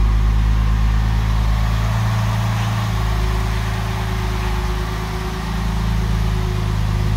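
A car engine idles steadily, a close, continuous low hum and rumble with a constant drone and no revving, heard alone.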